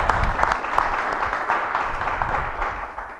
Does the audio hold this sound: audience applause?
yes